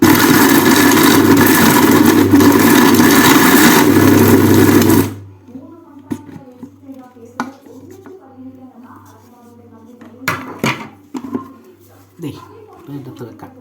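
Mixer grinder crushing dry fruits for a homemade shake, a loud, dense, steady whirring grind for about five seconds that cuts off abruptly, followed by quieter kitchen handling sounds and someone talking.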